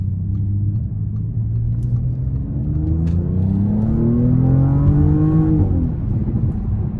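A 2023 Audi S7 Prestige with a 2.9-liter twin-turbo V6 accelerates hard from inside the cabin, its loud engine tone climbing steadily through one long pull before easing off near the end.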